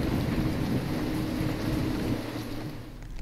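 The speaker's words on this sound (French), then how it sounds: "C'est quoi ce bruit? C'est l'éclair." Thunder after a lightning strike in the horror game Devour rolls as a deep, continuous rumble with a rain-like wash, loud at first and slowly fading.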